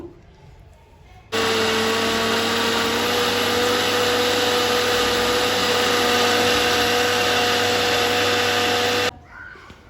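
An electric blender whirs loudly and steadily for about eight seconds while it purées mango into juice without added water, starting and stopping abruptly with quiet room sound before and after.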